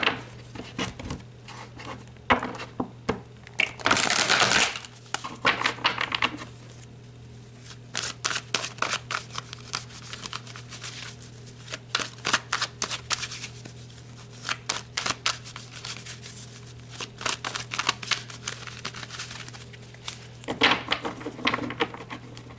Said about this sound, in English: let's pull some tarot.